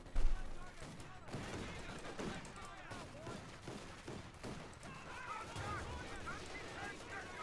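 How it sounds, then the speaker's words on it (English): Rifle fire and grenade explosions in Company of Heroes 2, in a match of the German OKW faction against US forces: irregular bursts and thuds with some distant shots, running under steady commentary. "Grenade off from the Volksgrenadiers. So fire there."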